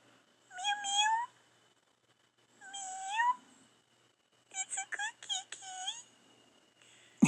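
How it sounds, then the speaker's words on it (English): A calico kitten meows several times, two drawn-out cries followed by a quicker run of short meows, fairly close in a quiet setting. "sometimes when I walk off, she'll go meow, meow,"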